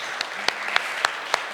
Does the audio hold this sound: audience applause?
yes